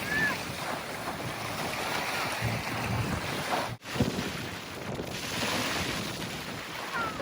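Ocean waves wash and roar steadily with wind buffeting the microphone, one brief dip in the surf noise partway through.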